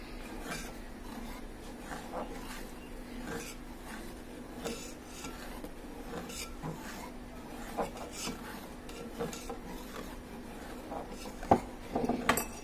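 Egg is stirred into chicken soup in a pot with a utensil, giving soft continuous scraping and rubbing and light clinks against the metal over a steady low hum. The sounds are faint and fairly even, with a few louder knocks near the end.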